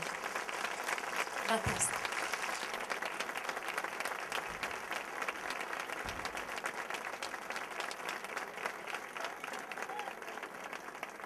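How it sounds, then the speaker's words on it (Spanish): A crowd at a folk festival applauds continuously for several seconds, a dense even patter with a few louder claps, and a brief word of thanks spoken once. "Esta noche un aplauso muy grande."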